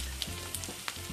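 Chopped meat and finely diced onion sizzle and fry steadily in a pan on a stove, a continuous close crackle with a few brief clinks and scrapes from stirring.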